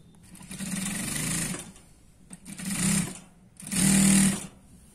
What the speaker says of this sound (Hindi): यहाँ से हम स्लीव्स आपको लगा के दिखाएंगे कि किस तरह से जो है यहाँ पे सिलाई लगाई जाएगी